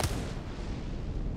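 Gunfire in the video game Apex Legends, a dense, continuous burst of booming shots running through the whole moment, loud and close with no gaps.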